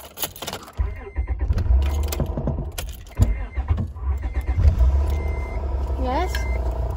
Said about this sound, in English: So we're gonna start the car now.